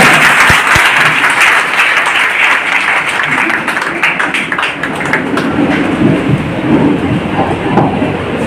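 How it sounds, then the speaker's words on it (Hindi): An audience at a youth dialogue event in Mathura claps loudly to welcome a speaker to the stage, a sustained roar of dense applause that tapers slightly toward the end. "मैं चाहता हूं कि जोरदार तालियों से उनका स्वागत किया जाए।"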